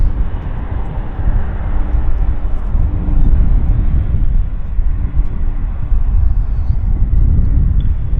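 Airbus A330 airliner at Vancouver airport, a steady, loud low jet roar that swells slightly midway and holds throughout, with faint wind noise and no talk.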